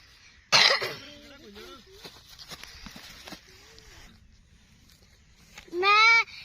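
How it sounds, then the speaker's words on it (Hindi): A baby goat bleats in green village fields, a short wavering cry near the end, after a loud cough and a person speaking softly close by. "ये बकरी का बच्चा कितना प्यारा क्यूट से पकड़े।"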